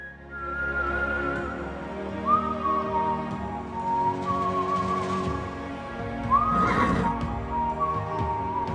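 A horse whinnies and neighs twice during horseback riding in Death Valley, long wavering calls rising and falling, close and clear over a steady low background, with faint whistling and hoof-like clops between.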